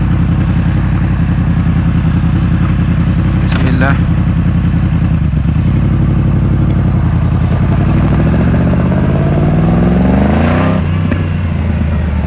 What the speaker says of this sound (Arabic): شوفوا الموتور كيفاش داير.